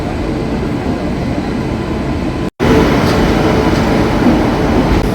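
A train at New Jalpaiguri station platform 1, the Sampark Kranti Express bound for Guwahati, gives off a loud, continuous rumble, broken by one very brief gap midway.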